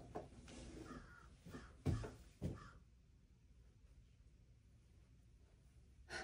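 Crows cawing outdoors, several harsh calls in a short burst near the start and a couple of louder caws around the middle, then quieter background with one more call at the end.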